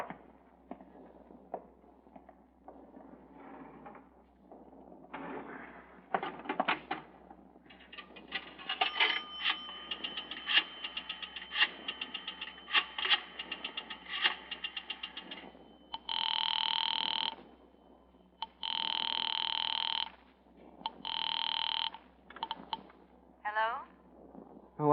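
A telephone bell rings in a 1945 radio drama, three long ringing bursts near the end after dialling and handset clicks, with actors talking earlier in the scene.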